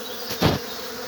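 A brief swell of buzzing from honeybees and drones rises and fades within a second, over steady background hum.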